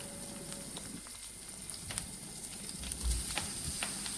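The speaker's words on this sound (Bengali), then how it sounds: "এগুলো সব কড়াইতে দিয়ে দিলাম, এখন একটু হালকা ফ্রাই করে নিব।" Onions, chilies, ginger and garlic fry lightly in white oil in a wok, giving a soft, steady sizzle with faint crackles and occasional stirring clinks, quiet and close with no talk.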